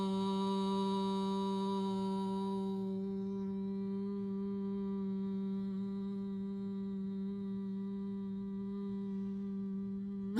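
A person hums a long, sustained Om, a steady low-pitched vibrating tone held evenly and close for about ten seconds, alone without other sounds.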